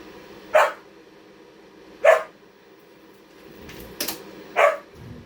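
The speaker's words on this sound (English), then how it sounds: "There's no reason to be barking." A dog barks four times, spaced a second or two apart, sharp and moderately distant against a quiet background.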